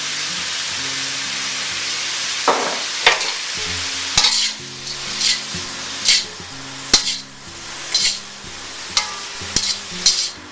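Singapore rice noodles being stir-fried with curry powder in a hot wok, a steady loud sizzle broken by repeated scraping and tossing bursts at a regular pace.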